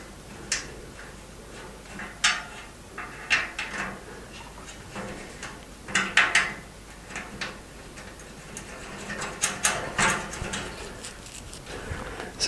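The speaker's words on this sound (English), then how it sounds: "So 2 more screws in the side, and the motherboard is fixed in place." Screws are driven to fix a motherboard inside a Cooler Master HAF XB PC case, giving irregular close ticks, clicks and light metallic knocks with quiet pauses between them, and no talking.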